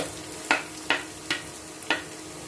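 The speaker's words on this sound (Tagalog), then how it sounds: "Dahil nagbo-brown na siya, isunod natin ang bawang." Ginger and then garlic sauté in a pan for a beef and vegetable stir fry, giving four separate scraping stir strokes spaced roughly evenly over a soft steady sizzle, close and moderately quiet.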